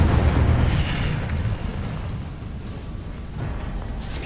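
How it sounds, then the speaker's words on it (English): The Incendio fire spell is cast in the video game Hogwarts Legacy, a loud roaring whoosh of flame that bursts at the start and fades into a sustained rumbling rush over several seconds, with no talk. "Incendio."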